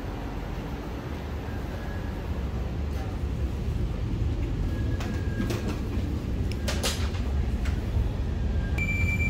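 A Sabiha Gökçen–Kadıköy metro train in Istanbul gives a steady, loud rolling rumble with brief high-pitched beeps and chimes near the end, with a faint voice in the background.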